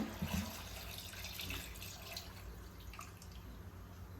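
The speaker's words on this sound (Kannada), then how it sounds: "ಇದಕ್ಕೆ ಸ್ವಲ್ಪ ನೀರು ಹಾಕೋಣ" Water runs steadily into a pan of chana dal and beetroot for beetroot palya, a continuous splashing trickle with faint drips, close by and with no voices.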